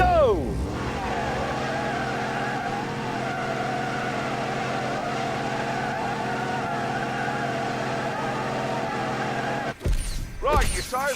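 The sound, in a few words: Dodge Demon muscle car burnout in The Grand Tour Game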